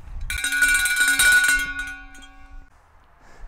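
A disc golf basket's chains and bell ring out loudly on a course during a doubles round, a bright metallic clang with sustained ringing tones that fade out over a couple of seconds.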